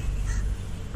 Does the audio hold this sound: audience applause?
no